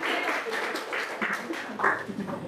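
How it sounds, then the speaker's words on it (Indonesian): Applause in a classroom lesson study session, a short burst of fairly quiet clapping with some voices mixed in, under light speech. "beri tepuk tangannya"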